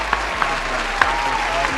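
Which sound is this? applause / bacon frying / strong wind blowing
applause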